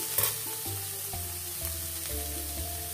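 Kashi halwa frying in ghee, a steady close sizzle with stirring scrapes, one sharp clatter near the start and otherwise even, continuous crackle and hum with no voices.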